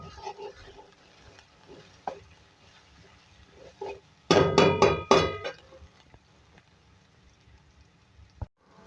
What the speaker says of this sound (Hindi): इसके अंदर 2 खाने का चमचा लहसुन अदरक का पेस्ट भर के और इसको हम डाल के फ्राई करेंगे